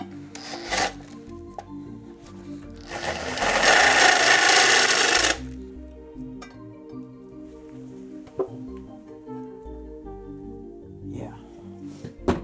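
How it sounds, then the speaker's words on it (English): A loud, rasping drill burst grinds through metal for about two seconds mid-clip, with quieter mechanical clicks and handling noise before and after, close by, indoors over a rug. "don't drill metal on a rug"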